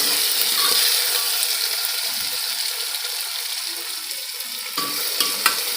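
Dried white peas sautéing in a pan, a steady close sizzle with a few light scrapes and knocks of a stirring spoon toward the end, with no talking.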